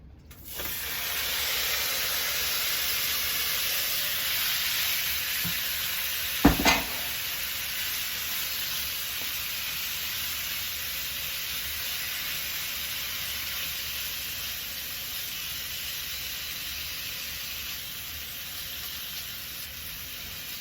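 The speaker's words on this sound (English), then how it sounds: "But I'm only going to put 1 tablespoon of oil in here now. Now I'm going to put my meat in here." Steak meat sizzling in a tablespoon of oil in a frying pan on a stovetop, a loud steady hiss holding for about twenty seconds with one brief clatter partway through.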